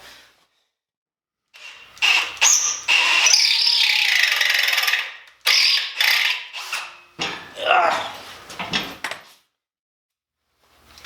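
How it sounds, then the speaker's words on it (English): An easy out being worked into a broken bolt on a 1950 Chevy coupe: close metallic ratcheting and squeaking bursts in uneven spells, with pauses between turns. "Trying to use an easy out as I go, just in case it actually comes out."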